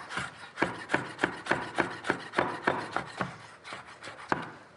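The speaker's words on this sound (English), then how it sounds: "I'm just going to finely slice those" A knife finely slicing dried apples, apricots, pears and prunes on a board, with a run of about a dozen crisp, evenly spaced cuts, close and fairly quiet, and no voices.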